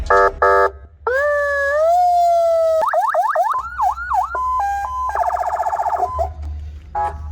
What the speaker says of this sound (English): we can get all the lights and sirens working